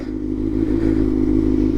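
A 2019 Kawasaki ZX6-R fitted with an SC Project titanium slip-on exhaust and no mid pipe idles and burbles close by, a steady, throaty running note that holds without a break.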